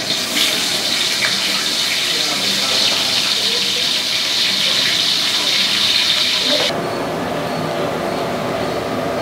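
Onions, 1.5 kg of them, hit hot oil with spices for a brinji and sizzle loudly, a continuous broad hiss that drops and settles near the end.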